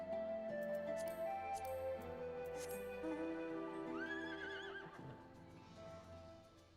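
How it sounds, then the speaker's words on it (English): Video game horse mount, the Conjurer Unicorn, letting out a long clear whinny with a quavering, wavering neigh near the end, heard alone over a light clip-clop and faint background game sounds. "We have a horse."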